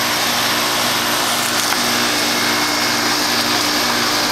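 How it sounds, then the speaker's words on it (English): A 1996 Carrier straight-cool 5-ton central air conditioner with a Copeland scroll compressor runs steadily, a loud, close, constant roar of fan airflow over a low electrical hum with no change in level. "this is a 1996 Carrier straight cool 5-ton central air conditioner with a Copeland scroll compressor in it"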